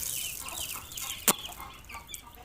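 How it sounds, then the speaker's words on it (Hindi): A hen clucking to call her chicks to eat millet, a series of soft close clucks with one sharp louder note midway, heard alone without talk. "ये मुर्गी बुला रही है अब परिंदों को, बच्चों को आप साथ बुलाएगी"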